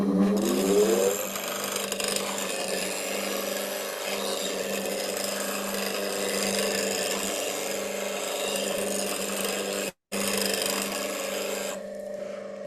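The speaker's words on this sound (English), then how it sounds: "So give me 2 seconds while I just touch that up on the grinder." A woodturning gouge is sharpened on a bench grinder with a steady, loud, continuous grinding hum and rasp that breaks off briefly near the end, then resumes and fades.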